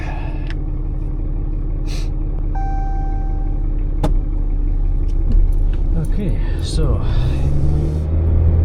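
A vehicle engine rumbles steadily in forward low gear on a snowy winter access track, a close continuous drone with clanks and rattles, and someone talks over it.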